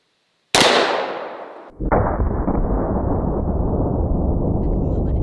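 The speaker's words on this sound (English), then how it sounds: "This is a Desert Eagle chambered in 44 Magnum." Desert Eagle pistol chambered in .44 Magnum fires a single Underwood 240-grain jacketed hollow point, a loud close blast followed by a second heavy impact and long ringing, reverberant tail.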